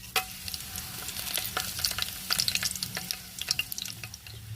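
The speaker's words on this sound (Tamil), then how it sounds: "எண்ணெய் சூடாயிருச்சுங்க கறி மசாலா போட்டு போட்டுக்கிறோம்" Curry masala hits hot oil in a pan, giving a close crackling sizzle broken by the scrape and clatter of stirring.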